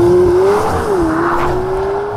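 A McLaren 720S with a twin-turbo V8 and seven-speed dual-clutch gearbox accelerates hard. Its engine note climbs steadily, dips briefly at a gear change, then rises again, loud and close, with no one talking.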